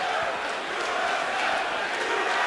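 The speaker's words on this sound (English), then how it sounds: "the crowd here in Mississippi chanting USA" A large arena crowd at a 1997 UFC event in Mississippi chants USA, a dense, steady roar of many voices with rhythmic rising swells and no clear pauses throughout.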